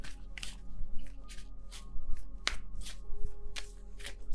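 Tarot cards being shuffled by hand in short riffling bursts, close and fairly soft, repeating at irregular intervals.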